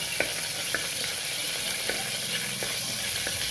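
Dried red chilies crackle and sizzle in hot oil while a curry is being cooked, a steady frying hiss with a few sharp pops, close and continuous with no voices.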